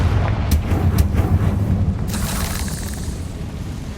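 A Confringo fire spell explodes in the video game Hogwarts Legacy with a deep, rumbling boom and crackling bursts that fade into a roaring tail, with no voices over it.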